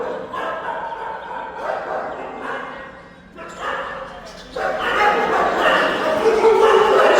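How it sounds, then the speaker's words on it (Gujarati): Several dogs at an animal welfare trust bark, yip and whimper in welcome, their excited calls coming in uneven bursts that grow louder and busier toward the end, with people talking among them. "જો અવાજ સાંભળીને બધા ડોગી સ્વાગત કરે"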